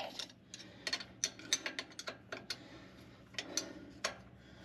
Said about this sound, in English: Then I got a 1/2 inch drive ratchet